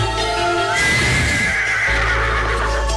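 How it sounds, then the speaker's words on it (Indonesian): A horse lets out a loud, sustained whinny as a film sound effect, rising then trailing off, layered over a dense, full backing of music and ambience. "Kuda Sembrani itu akan menghantarkanmu pulang ke Malwapati"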